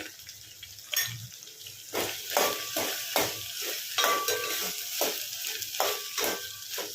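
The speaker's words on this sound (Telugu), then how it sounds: "ఇలా బెండకాయ ముక్కలను అయితే ఫ్రై కానివ్వండి" Okra pieces frying with turmeric in a pan, a soft sizzle under intermittent stirring and scraping strokes, fairly faint and close, with a few clinks and no talking.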